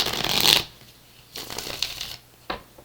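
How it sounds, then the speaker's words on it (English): A close burst of riffled tarot card shuffling, then a pause and two shorter, softer shuffles of cards. "I shuffle the cards immediately beforehand"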